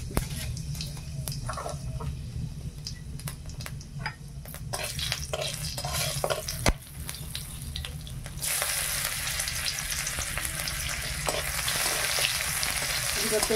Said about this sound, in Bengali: ফোড়ন দিয়ে দিলাম।